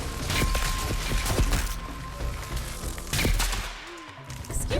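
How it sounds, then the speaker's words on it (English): Gunfire aimed at the player in Horizon Forbidden West, dense rattling volleys and sharp cracks mixed with game sounds, loud and continuous with a few heavier hits. "can you stop shooting at me?"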